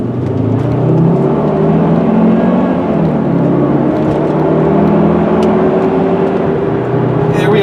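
A 2001 Volvo V70 XC AWD wagon cruises at about 55 mph, heard from inside as a steady loud engine drone over road and tire rumble, with no talking.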